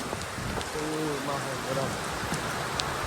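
Steady rain patters in a continuous hiss with scattered drop ticks, while a faint voice murmurs briefly beneath it.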